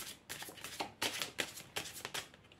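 Tarot cards shuffled by hand before a card draw, a run of quick papery riffles and soft slaps in four or five bursts, close and fairly quiet.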